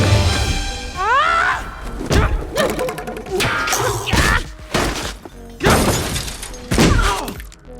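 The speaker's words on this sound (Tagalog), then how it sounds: "nabasag lang niya ang override key" An override key shattering in a Spider-Man film: several sharp smashing and thudding impacts in quick succession, loud and close, mixed with other busy effects.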